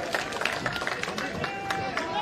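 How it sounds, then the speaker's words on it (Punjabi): A crowd claps and cheers to welcome a candidate, Mahinder Bhagat, at a political rally in Jalandhar, steady dense applause with crowd noise and a voice over it throughout. "ਮਹਿੰਦਰ ਭਗਤ ਜੀ ਜ਼ੋਰਦਾਰ ਤਾੜੀਆਂ ਨਾਲ ਸਵਾਗਤ"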